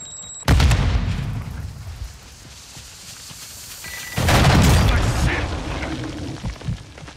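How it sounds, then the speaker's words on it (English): A Semtex sticky grenade detonates in Call of Duty: Modern Warfare II Warzone. Two loud, booming blasts land about four seconds apart, each with a rumbling tail, and faint voices sit in the background. "Throwing Semtex!"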